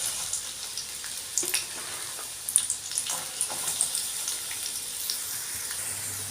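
Chopped big onions fry in hot oil in a pan, a soft continuous sizzle with scattered crackles and light clatter close by.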